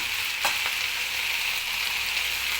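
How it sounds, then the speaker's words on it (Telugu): Chopped spinach frying in hot oil in a pan, a steady sizzle throughout, close and fairly loud, with a brief crackle early on and no talking. "ఈ కట్ చేసి పెట్టుకున్న చిన్నగా తరిగి పెట్టుకున్న పాలకూరను వేయాలి"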